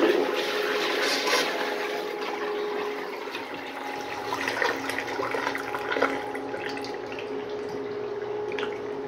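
A miniature 1989 Kohler Highcliff toilet flushes nearby, a rushing swirl of water settling into a softer trickle and refill with scattered drips.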